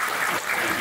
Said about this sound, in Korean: 박수 한 번만